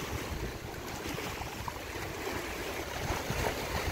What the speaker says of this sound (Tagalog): Lalo lumakas ang alon.